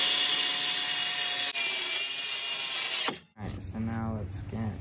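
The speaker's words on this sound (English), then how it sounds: "I think I'm gonna want to cut it right about here" Saw cutting through a wooden board for an RC car ramp: a loud, close, continuous rasping buzz that stops abruptly after about three seconds, followed by someone speaking.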